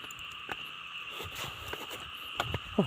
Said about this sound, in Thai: เสียงเขียดห้องขนาดนั้น